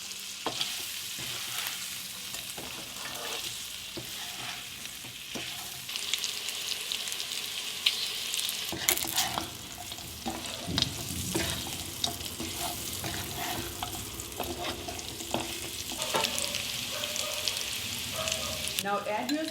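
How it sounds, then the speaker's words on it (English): Smoked pork stir-fried with crushed garlic, red chili and salt sizzles steadily in a hot pan, with repeated scraping stirs and clanks from a utensil growing busier and louder partway through. "Add your crushed garlic cloves at this moment, red chili flakes or powder, and salt as per taste. Stir, cook it for a couple of minutes."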